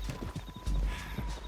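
Horse hooves clip-clop in a steady, rhythmic gait in Red Dead Redemption 2, fairly close and clear, with low rumbling game ambience beneath.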